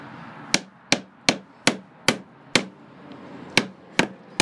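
A hammer drives a nail while a closet is being built, nine sharp, ringing blows at a fairly even pace with a brief pause midway, close and loud, with no talking.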